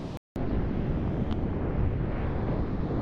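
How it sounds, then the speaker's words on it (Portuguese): Strong wind at a beach buffets the microphone with a loud, continuous low roar and rumble, steady after a brief dropout at the start, with no voices. "Tô com muito, muito vento"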